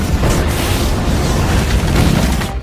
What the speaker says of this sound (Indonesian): tiba-tiba bahan peledak yang sebelumnya dipasang oleh Skinner meledak